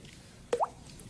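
A person imitates a water drop with the mouth by popping the cheek, producing a single quick, clear plop with a rising pitch against a quiet background.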